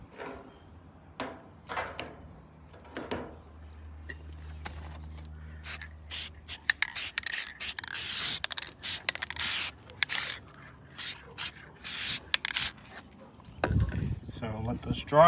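An aerosol can sprays black paint onto parts of a cammed VF SSV in a series of short, loud hissing bursts. Brief clinks and handling noises come before the spraying.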